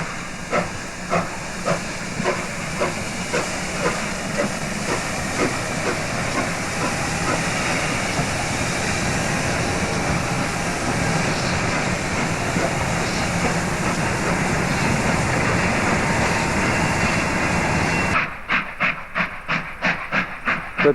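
Steam locomotive SAR 621 running, a loud continuous hiss of steam with a steady rhythmic chuff and rail clatter, the beats turning sharp and distinct near the end.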